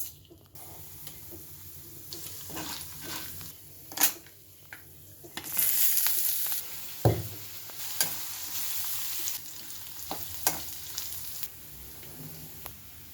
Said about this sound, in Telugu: ఇవి ఒకటి ఒకటి వేసుకుని వేయించుకోవాలి.